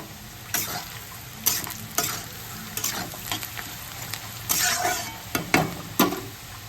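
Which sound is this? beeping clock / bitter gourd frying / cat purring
bitter gourd frying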